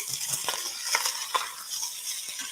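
Blood sausage, pork belly and chorizo stew being stirred in a pot, giving soft intermittent scraping and clinking strokes over a faint simmering sizzle, close and fairly quiet.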